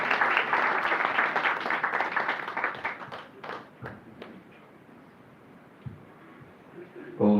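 Audience applause at an annual function in a hall, welcoming a guest speaker; a dense burst of clapping fades over several seconds, with scattered claps and faint voices continuing underneath.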